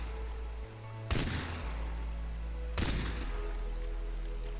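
Two loud gunshots in Far Cry 3, about a second and a half apart, each a sharp broadband crack with a short decaying tail over a steady low in-game ambient hum.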